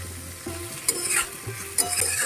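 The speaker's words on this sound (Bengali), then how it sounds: "আলুগুলোর সঙ্গে পেঁয়াজটা ভাজা হয়ে যাবে" Onions and potatoes frying together in a pan, a soft continuous sizzle with a few scraping stirs of a spatula breaking through, close and moderately loud, no voices.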